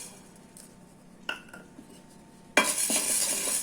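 Black peppercorns are dry roasted in a pan at home, with quiet scraping and a few clinks before a loud burst of rattling and stirring near the end.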